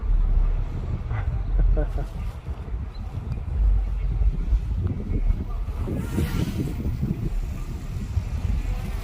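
Gusty wind buffets the microphone outdoors while a Cheerson CX-30 drone flies near trees, a rough low rumble that continues throughout with a faint whoosh partway through.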